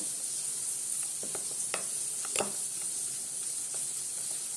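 Chili chicken tossed and mixed with sauce, soft wet squelches and scattered stirring clicks over a constant sizzling hiss, close and unaccompanied by talk.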